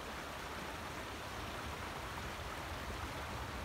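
Water rushes steadily across a wide stream, a constant dense broadband wash heard close and unbroken, with no voices.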